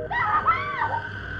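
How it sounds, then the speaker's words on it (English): Muffled screaming from beyond apartment walls: a shrill, wavering cry that rises and falls for over a second, dulled and moderately distant, over a faint low hum. "More muffled screaming."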